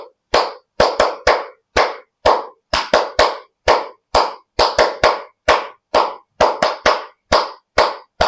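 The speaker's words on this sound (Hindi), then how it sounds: "ताली वादन करेंगे। तालियों के साथ एक्वाप्रेशर पॉइंट दबाएंगे।" Hands clap in bursts of two or three sharp, close claps separated by short pauses during a yoga session, striking the palms to press acupressure points; there are no voices.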